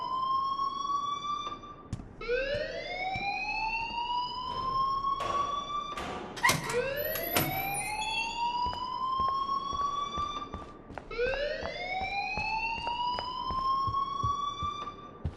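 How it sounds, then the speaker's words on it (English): A school alarm in the game Life Is Strange wails in repeated rising sweeps, loud and close, each cycle climbing then holding before starting again, with a few sharp clanks midway and no voices. "please turn off that alarm since that's your job"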